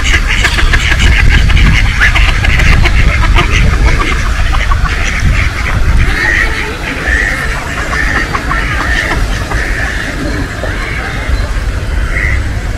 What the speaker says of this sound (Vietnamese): À, mấy chú vịt.